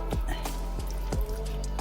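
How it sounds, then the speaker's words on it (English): Washed raw wool fleece is gently squeezed to press out the last of its water. Soft, close squishes come with a few distinct drips falling at irregular intervals. "I'm just giving it a really gentle squeeze just to get the last of that water out"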